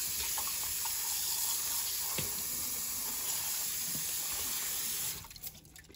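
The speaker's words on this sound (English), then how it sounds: "I use a strainer so that it's easier for me to just separate the vegetables from the water" Tap water pours steadily into a sink over vegetables in a strainer, making a loud continuous splashing hiss that cuts off near the end.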